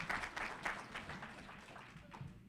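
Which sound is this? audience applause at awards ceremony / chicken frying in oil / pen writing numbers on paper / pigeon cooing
audience applause at awards ceremony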